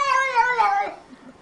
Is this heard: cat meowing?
yes